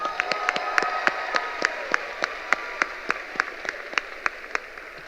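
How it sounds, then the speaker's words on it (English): Graduation audience applauding at a high school class of 2025 ceremony, a moderate wash of clapping with a few distinct nearby claps punctuating it at a steady pace. "I think that deserves one more round of applause."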